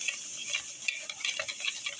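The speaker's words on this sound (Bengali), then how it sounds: "হ্যান্ড উইচের মাধ্যমে ভালো করে মিক্স করে নিচ্ছি চিনি আর ডিমটাকে" A hand whisk beats sugar into egg whites in a bowl, with quick, bright, irregular clicks and scrapes of the wire against the bowl close up.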